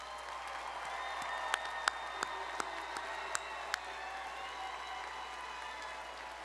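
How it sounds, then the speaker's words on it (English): Audience applause fills a commencement hall for the business college graduates, steady dense clapping with a few sharper claps standing out. "please join me in a final round of applause to congratulate all of our outstanding graduates"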